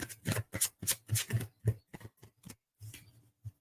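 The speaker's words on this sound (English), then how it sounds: "I'll pull 2 cards for you, Lisa." Tarot cards drawn and shuffled from a deck, a quick series of close, crisp papery flicks and slaps in an uneven rhythm with brief pauses between.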